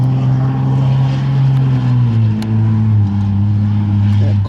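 A 4600 Pro Comp stock class off-road race vehicle at an Ultra4 race in Shamokin, Pennsylvania, its engine droning loud and steady up close, the pitch sliding lower about halfway through as it passes.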